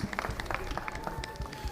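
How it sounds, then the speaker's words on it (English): Scattered applause from a small group, uneven claps at close range with some crowd murmur underneath. "Round of applause."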